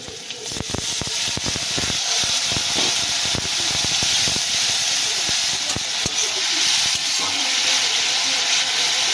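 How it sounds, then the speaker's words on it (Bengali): Loud steady hiss of steam and sizzling as a little water is poured into a hot pan of fried lote fish, continuous throughout with scattered crackles and pops. "এবার সামান্য পরিমাণ জল দিয়ে দেবো"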